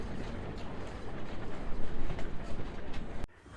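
The Cass Scenic Railroad's Greenbrier Express steam train rolls along the Chesapeake and Ohio Greenbrier division toward Durbin, West Virginia, giving a loud, dense rumble with rattling clatter and occasional clicks that cuts off abruptly near the end.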